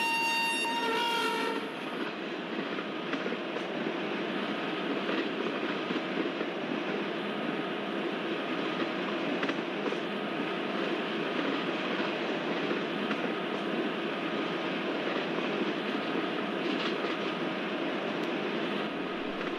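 A train passes at high speed in Microsoft Train Simulator on the Guntakal–Pakala route, a steady loud rushing rumble after a brief horn at the start, with no talking.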